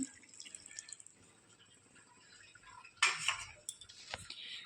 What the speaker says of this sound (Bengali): এবার এখানে এই যে 1 কাপ নারকেলের দুধটা আমি দিয়ে দিচ্ছি।